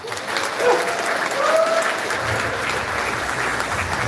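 Audience applause fills a book concert hall at BEXCO, a steady dense clapping that holds at a fairly loud, even level for the whole stretch, with a faint voice or two underneath.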